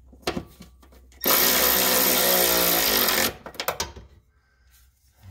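A power tool drives the rear shock bolts on a 2007 Nissan Quest, a loud whirring burst of about two seconds, framed by clanks and clicks of tools and metal parts nearby.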